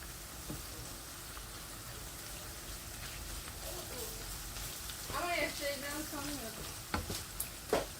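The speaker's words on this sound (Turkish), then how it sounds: "Şunu karıştır ez, ez salçayı iyice de çekeyim" Tomato paste being stirred and mashed in a sizzling pan makes a soft, steady frying crackle with scraping knocks, while someone speaks briefly partway through.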